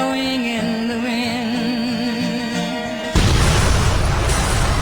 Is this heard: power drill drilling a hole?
no